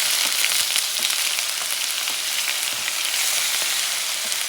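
Sea bass and onions saute in hot coconut oil in a pan, a steady close sizzle with crackling pops running throughout, no voices.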